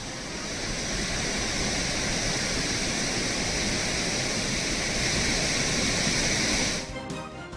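The flooded Hogenakkal waterfalls on the Kaveri river roar as a loud, dense, unbroken rush of falling water that holds steady for several seconds before cutting out abruptly near the end.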